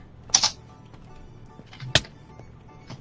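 A few sharp, isolated clacks of a computer keyboard, spaced about a second and a half apart, close and fairly crisp against a quiet background hum.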